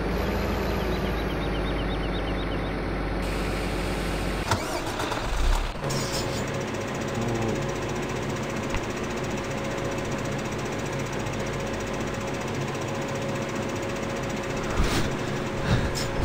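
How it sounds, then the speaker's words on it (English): A tractor engine in Farming Simulator 15 runs as a steady, continuous machine drone with a rattling, knocking texture, interrupted by a brief clatter partway through. "My tractor's trying to get a hay bale there."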